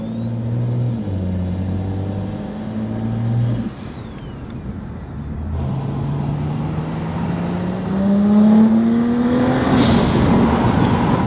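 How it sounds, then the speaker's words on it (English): A single-turbo N55 BMW 335i revs hard and loud through rising gears in the rain, its engine note climbing steeply, breaking off at each shift and then pulling up again, with no talking. "This car just sounds so cool."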